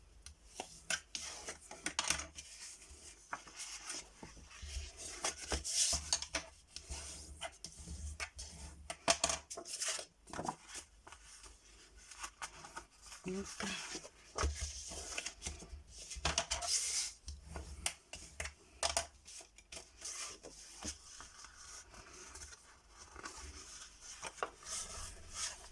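Folds are creased into a paper card being made by hand, giving soft, close rubbing and scraping strokes in irregular bursts, faint and without talk.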